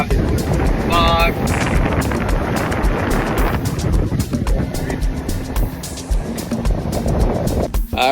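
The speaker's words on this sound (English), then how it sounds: "We're motoring down the coast right now" A sailboat motoring south along a flat, calm, foggy coast toward Half Moon Bay, its engine droning steadily under wind buffeting on the microphone.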